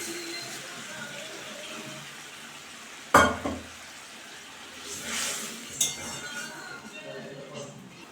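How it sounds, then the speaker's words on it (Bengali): Water is poured into hot oil with tomatoes and chillies in a pan while puti fish curry is being cooked. A sudden loud hiss and spatter cuts into the low sizzling, with a few clinks of utensils against the pan. "এখন আমি একটু ফালটা দিয়ে জল দিয়ে দেব"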